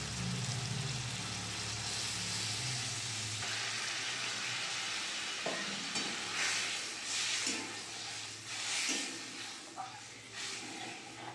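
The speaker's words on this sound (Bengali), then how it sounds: "মশলা থেকে তেল ছেড়ে গেছে, জল দিয়ে দেবো অল্প।" Spice paste frying in hot oil for a Bengali fish and eggplant curry, a steady bright sizzle with scraping stir strokes; partway through water goes in, the hiss turns sputtering and uneven as stirring continues.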